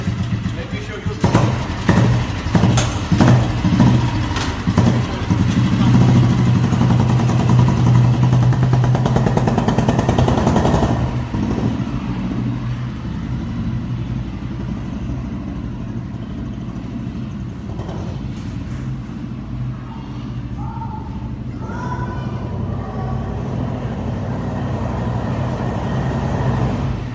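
An old Royal Enfield Bullet 350 motorcycle engine starts and runs with a loud, close, thumping roar for about ten seconds, then settles into a steadier, quieter idle while someone talks over it.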